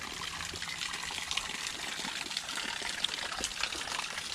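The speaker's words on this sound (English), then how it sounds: "The Fisher storage tank has an overflow, as you can see. That runs when their tank is full." Water runs from the overflow of the Fisher storage tank on a small water system, a steady, close trickling and splashing flow with no talk over it.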